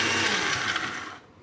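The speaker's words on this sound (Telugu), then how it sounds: "ఒక రౌండ్ మిక్సీ వేసిన తర్వాత ఓపెన్ చేసి అందులో వాటర్ యాడ్ చేసుకోవాలి" A kitchen mixer grinder blends chutney for pongal, a loud steady whirring whine that runs close and continuous before cutting off and fading near the end.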